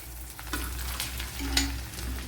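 Two large, finely sliced onions are tipped into a hot pan and fry with a steady close sizzle, punctuated by a few scraping stirs.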